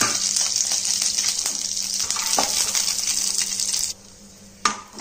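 Cashews and raisins fry in ghee for semiya kesari, a steady loud sizzle with stirring scrapes that cuts out sharply near the end, leaving a quiet pause and one brief burst.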